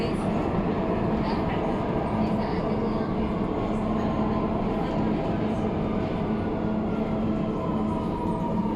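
A Riyadh Metro train runs with a steady, loud rumble and a continuous mid-pitched drone heard from inside, with no break in the sound.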